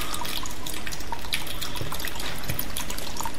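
Water splashes from a new fountain in a played-back recording, a steady, dense rush and patter that runs without pause, fairly loud with no voices.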